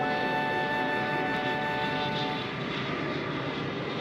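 Cartoon airplane in flight, a steady droning engine hum with a faint whine, holding evenly throughout and heard alone.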